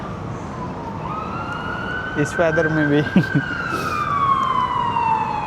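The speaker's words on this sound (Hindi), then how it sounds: "हर तरफ एम्बुलेंस के सायरन बज रहे हैं।" Ambulance sirens wail and sweep up and down through a snowstorm in Toronto, rising and fading against steady street noise, while a person speaks briefly partway through.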